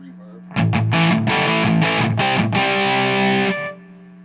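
Electric guitar played through a Marshall Mode Four MF350 amp with distortion and reverb: a few loud, heavily distorted strummed chords ring out close and clear, then cut off with a short reverb tail.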